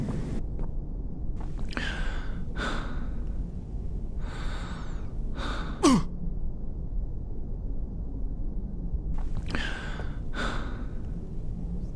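A character in Hitman: Blood Money breathes heavily, with several audible sighing and gasping breaths spread across the stretch, close and fairly loud over a quiet hiss.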